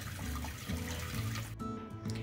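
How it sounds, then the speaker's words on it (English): Water runs steadily into a kitchen sink on a rainy day while baby food jars are rinsed, a continuous close splashing rush with faint shifting tones and no talk. "running water constantly into a sink on a rainy day"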